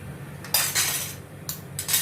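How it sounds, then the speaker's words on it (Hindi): A metal spoon scrapes and clinks around a pan while besan sabzi is being stirred, making a few bright, close metallic strokes separated by short pauses, with no voices. "इनको मैं अच्छी तरह से घुमाती हूँ।"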